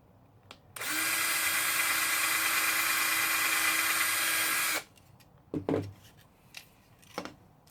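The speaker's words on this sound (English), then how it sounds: "Now that we have it solidly anchored, we can drill the second one." A power drill whines steadily at high speed for about four seconds drilling a screw hole, then stops, followed by a few soft clunks and handling noises.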